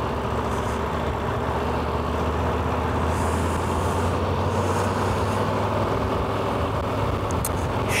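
Motorcycle touring on Irish roads to Glengarriff, a steady low engine hum with a continuous road and wind rumble, fairly quiet and unchanging throughout.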